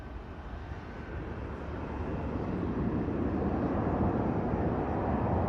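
A Ryanair airliner departs Manchester Airport for Cork, its steady jet roar building gradually and filling the background with broad rumbling noise.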